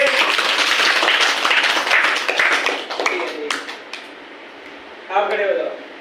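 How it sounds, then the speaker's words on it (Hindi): Classroom of children clapping together for a classmate who answered correctly, brisk applause that tapers off, followed by a teacher speaking. "इसके लिए ताली बजाओ बच्चे के लिए।"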